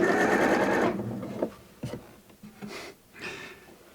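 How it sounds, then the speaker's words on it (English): A sewing machine stitching a placket onto a knitted jacket runs in a steady loud burst for just under a second, then stops, leaving a few faint handling clicks and rustles. "So now you just sew the placket on."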